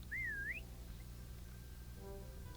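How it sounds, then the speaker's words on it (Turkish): A single rising-and-falling whistle in a Roblox video game, clear and fairly near, lasting about half a second at the start before a quiet hum of game background sound. "Bir ıslık çaldı."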